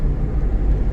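A car engine revs steadily during a driving lesson, a loud continuous low rumble held for the full second with no pauses and no voices over it.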